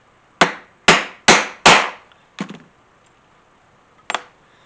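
A hammer strikes a metal rivet setter to set a rivet on a leather gun holster: four sharp, evenly spaced blows close up, then a softer tap and one final strike.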